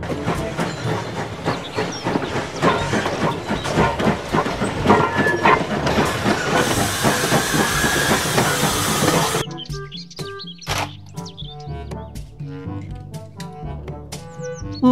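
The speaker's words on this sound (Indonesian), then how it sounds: "Kereta Thomas" Continuous clattering rumble of a toy Thomas train running along its track, loud and busy, followed by jingly musical toy sounds near the end.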